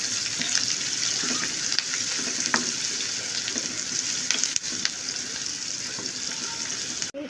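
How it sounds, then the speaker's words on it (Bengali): Green chilies, onion, cinnamon and cardamom browning in hot oil, a continuous close sizzle with occasional spoon scrapes and stirring knocks, no voices over it. "এখন এই কাঁচামরিচ, পেঁয়াজ এবং দারুচিনি এলাচকে তেলের সাথে ব্রাউন করে ভেজে নিচ্ছি।"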